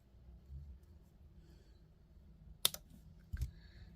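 Jewelry wire being snipped with cutters while making a heart pendant: two quiet, crisp clicks about a second apart against a faint background hum.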